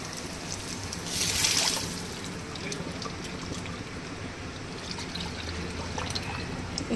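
Liquid is poured into a pot of moong dal rasam, a brief splashing pour near the start over a steady low background hiss, with no talking.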